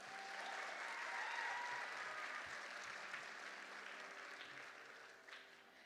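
Audience applause after a Bharatanatyam dance performance at a recital hall, steady dense clapping from a sizable crowd that gradually fades, with no speech over it.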